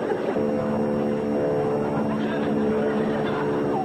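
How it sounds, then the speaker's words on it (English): A steady droning hum of a propeller airplane engine, moderately loud and constant throughout. "That sounds like my plane."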